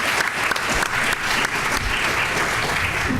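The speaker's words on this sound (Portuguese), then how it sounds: "Vamos dar as palmas." A seated audience at a film and psychoanalysis discussion event applauds loudly and continuously, dense clapping filling the room without pause.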